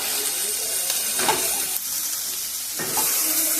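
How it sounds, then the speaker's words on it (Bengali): Capsicum sizzles and fries in a pan with a steady hiss, while a utensil scrapes through it in a few distinct stirring strokes, heard up close. "ক্যাপসিকামটা দিয়েও আমি একটু নাড়াচাড়া করে নেব।"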